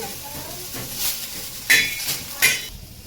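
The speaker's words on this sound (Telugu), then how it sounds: "పుదీనా స్మెల్ అనేది కొద్దిగా తగ్గుద్ది ఇలా ఫ్రై చేసుకుంటే, అందుకనేసి నేను ఫ్రై చేస్తున్నాను." Mint leaves, coriander and tamarind fry in a pan with a soft steady sizzle and a few sharp scraping clinks of a utensil against the pan.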